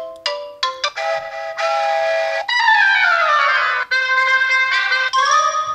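A series of iPhone text message alert tones plays loud and close, without other sound. Bright melodic chimes and short runs of notes follow one another, including a sliding, sweeping passage.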